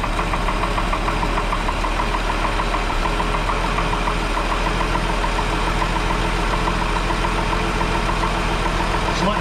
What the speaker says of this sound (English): Just letting it warm up and pulling the choke off slowly.